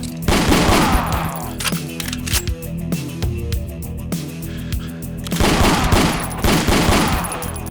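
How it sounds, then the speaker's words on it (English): Repeated shotgun blasts from a Doom-style shotgun in the game Ashes 2063, loud and close, firing in rapid bursts over dense in-game action noise. "Since this is, after all, a Doom-esque shotgun."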